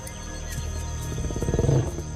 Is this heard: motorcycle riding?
no